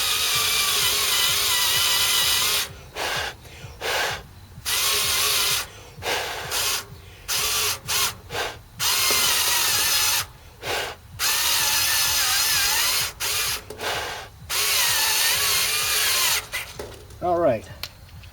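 Power drill boring into metal near a circuit board during a heat pump defrost controller install, loud close bursts of whirring broken by short pauses, with a brief voice at the end.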